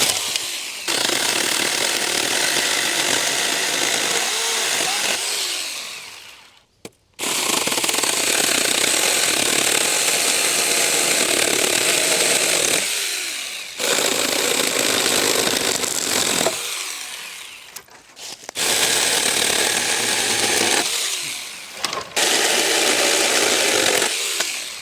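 A $35 mini chainsaw cuts down a tree, its loud, close, high-pitched buzz running in three long stretches separated by brief pauses as the cut is eased off and resumed.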